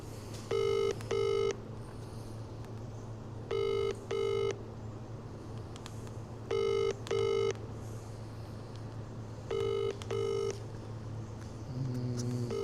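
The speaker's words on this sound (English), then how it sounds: "Keep that phone ringing." A telephone rings in repeated double bursts, four evenly spaced pairs of electronic trills over a steady low hum, with no talking.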